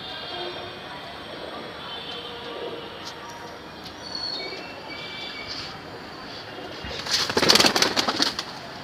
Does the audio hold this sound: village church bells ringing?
no